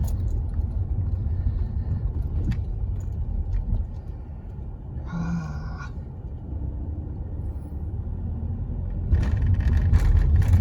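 A vehicle rolls across a bridge on a road near an old Texas city, giving a steady low rumble that swells louder toward the end, with a brief faint tonal sound midway and no talking.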